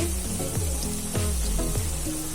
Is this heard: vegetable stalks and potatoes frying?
yes